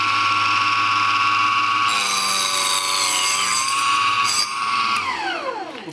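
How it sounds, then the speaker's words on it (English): A chop saw cuts wood for a picture frame with a loud, steady high-pitched whine that shifts in pitch as the blade bites in, then falls away as the motor winds down. "sometimes a chop saw will kick wood out"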